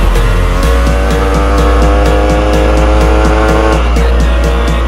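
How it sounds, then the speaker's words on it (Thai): A Honda Beat 110 scooter engine revving hard up close, a loud continuous buzzing drone with a rapid pulsing rhythm that climbs in pitch and then drops slightly near the end. "เดี๋ยวผมลองลากรอบดู"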